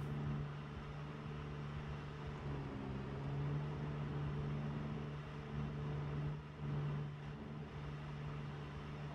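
A car engine idles in the Project Zomboid survival video game with a steady, rough low hum and a slight pitch rise midway, continuous and fairly close, with no talk.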